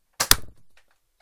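A Nerf Slingfire toy blaster fires a dart: a sharp double snap of the mechanism followed by a soft short rattle, then a few faint light clicks.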